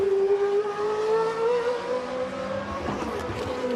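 A GP2 race car powers through the final corner during qualifying at the 2014 Austrian round, its engine holding a steady high-pitched tone that rises slightly, followed by another engine note joining near the end.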